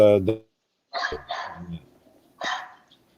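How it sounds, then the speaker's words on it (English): Pet dog barking indoors: a short yip is followed by three separate barks spread across a few seconds, moderately close, with a brief bit of voice at the start. "my dog is barking here"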